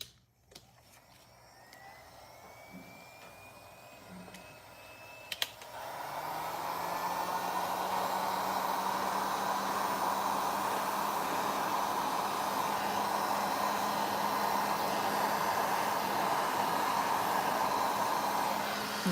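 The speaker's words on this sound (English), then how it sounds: "we're going to blast it with my heat gun" A heat gun blasts over a freshly poured first layer of resin artwork: some quiet handling noises, then a click and a loud, steady, close airy roar that runs unbroken to the end.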